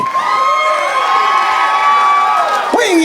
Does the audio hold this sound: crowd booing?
yes